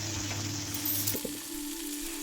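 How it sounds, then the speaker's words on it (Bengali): Potatoes deep frying in hot oil in a wok, a steady close sizzle with light bubbling and a brief clink partway through, no voices. "কড়াইতে তেল গরম হলে আলুগুলো একে একে ছেড়ে দিতে হবে, আর ছাঁকা তেলে ভাজতে হবে আলুগুলো"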